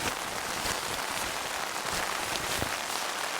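Heavy rain pours onto a tent and tarp in a steady, loud, unbroken hiss, with denser patters drumming close overhead and no voices over it.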